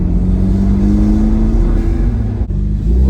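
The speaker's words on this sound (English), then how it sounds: "Let's get on throttle once right here just to see if" Lifted sixth-generation Chevrolet Camaro on 33-inch off-road tires, engine revving hard under throttle with a loud, deep droning roar that holds steady, dips briefly near the end, then surges again.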